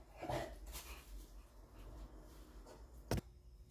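A dog barks a few times at a distance outdoors at night, with short quiet yaps and a sharper bark near the end against a faint background hum.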